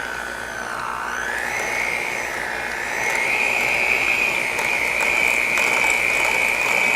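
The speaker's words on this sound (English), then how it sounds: "And I'm going to start mixing." An electric mixer whirs loudly through softened cream cheese, its motor whine steady and close, dipping briefly and then climbing to a slightly higher, stronger pitch as the beaters run continuously.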